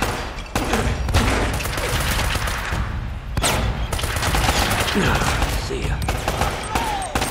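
Gunfire in Uncharted: Drake's Fortune, set in a drowned city: bursts of shots over a dense, steady din of combat, with a voice speaking briefly.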